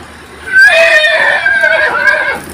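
A horse in a safari park neighs loudly and close, one long shaky whinny rising and wavering for nearly two seconds, with nobody talking over it.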